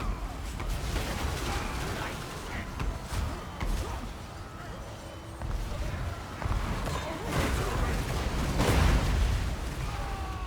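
Dwarf Thunderers fire handguns in a Warhammer battle, a dense, continuous crackle of volleys and distant blasts under someone talking.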